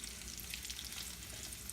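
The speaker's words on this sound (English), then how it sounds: "You can hear it sizzling down in the pan." Onions cooking in a frying pan on the way to translucent and brown, a faint, steady, even sizzle with no talking.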